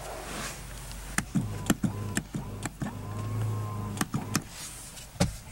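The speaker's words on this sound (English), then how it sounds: "You can operate the third row powered folding seats by this little button right here too" Electric motor whine from the powered folding third-row seats of a 2013 Infiniti QX56, running steadily for a few seconds and bracketed by mechanical clicks and clunks inside the SUV cabin.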